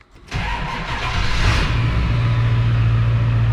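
A Ford 7.3 Powerstroke diesel truck engine cranks, fires and settles into a loud, steady close-up rumble with a rising hum, heard alone without voices.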